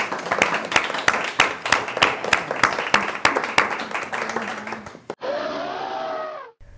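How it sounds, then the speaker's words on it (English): Applause for a guest on a community TV show: a short burst of sharp, fairly close hand claps with a rhythmic pulse, ending abruptly and followed by a brief stretch of music. "Round of applause for Action United."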